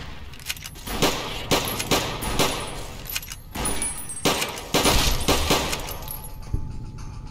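Uzi submachine gun firing in Fallout New Vegas, fast sharp bursts repeating in short loud clusters with brief gaps between them, close and with no talking.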